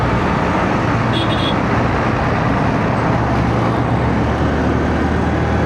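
A motorbike ridden through night-time road traffic, with a loud, constant rumble of engine and wind noise and passing vehicles blending into a dense roar, plus a brief high tone near the start.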